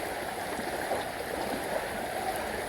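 Floodwater in Edappal rushes steadily around houses and across a road, a constant, soft wash of flowing water with no breaks.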